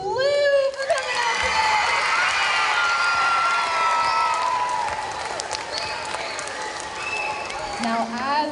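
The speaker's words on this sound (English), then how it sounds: "Let's give one more big round of applause to the produce moms and the Department of Education." Students at an elementary school assembly burst into loud, sustained applause and cheering, with high children's shouts and whoops layered over steady clapping from a large crowd.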